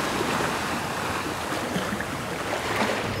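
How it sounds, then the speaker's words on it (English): Steady broadband wash of sea surf in Phuket, Thailand, a continuous rushing roar with no distinct breaks, fairly close and even in loudness. "Oh, wow. I can hear the sea."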